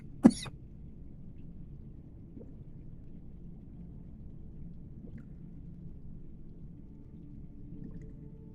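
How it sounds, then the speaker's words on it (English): One short, sharp cough close by, followed by quiet room tone. "Here's that cough I've been developed."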